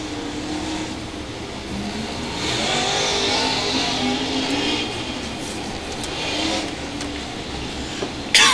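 USMTS modified race cars accelerating out of turn four at Lakeside Speedway, a loud, broad engine roar that swells and fades as the field passes, with a sharp knock near the end.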